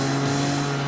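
A rebuilt V6 engine in a Maserati Merak SS Italian supercar revs with a loud, close, sustained tone held at high RPM for a brief moment.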